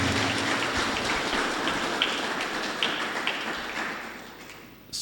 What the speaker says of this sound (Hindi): आप सबका जोरदार तालियों के साथ स्वागत, अभिनंदन।